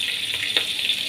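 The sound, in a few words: cabbage added to frying pan with shrimp, sizzling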